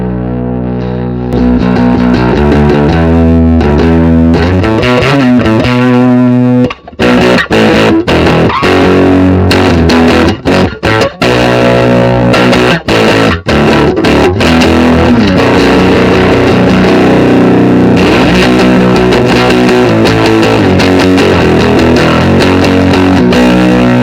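A heavily distorted baritone electric guitar plays loud, low chords and riffs with sustained ringing notes, then choppier strummed bursts, with no voices.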